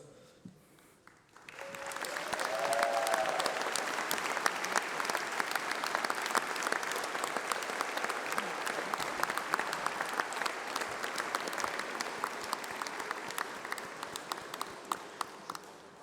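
Audience applause at a UCLan university graduation ceremony: after a quiet opening, a broad, sustained wash of clapping from a large seated crowd swells and holds steady for the rest of the stretch, with no talk over it.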